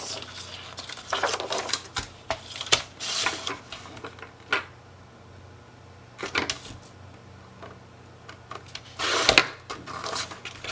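Paper is cut to size for scrapbook pocket inserts, giving a series of short, crisp slicing and tapping sounds in irregular bursts, fairly quiet with pauses between cuts.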